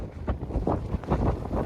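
Gusts of wind buffet a microphone outdoors on a cold campus walk, a rough low rumble rising and falling in uneven pulses with no voices.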